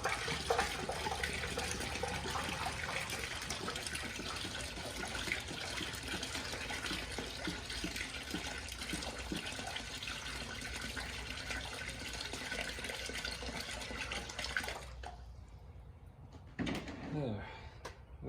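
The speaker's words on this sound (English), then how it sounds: "So I'm going to pour some tap water" Tap water is poured through the radiator of a 2006 Triumph Speed Triple motorcycle to flush it, making a continuous rushing, gurgling splash for about fifteen seconds. The flow then stops abruptly and a few scattered handling noises follow.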